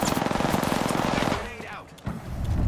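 Rapid automatic gunfire in the battle royale game Apex Legends, a dense, loud burst of repeated shots that breaks off partway through, followed by quieter clicks and then a fresh burst.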